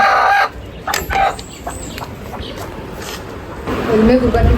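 Chickens at a market cluck and call in short bursts, with a rooster-like crow, while people talk nearby over a busy background.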